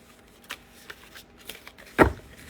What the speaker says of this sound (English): We're going to have to side shuffle these bad boys.